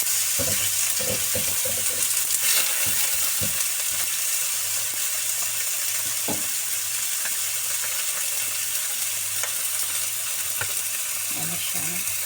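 Fish fries and browns in a hot pan with a continuous, close hiss of oil, broken by occasional light scrapes and clicks of a utensil moving the pieces.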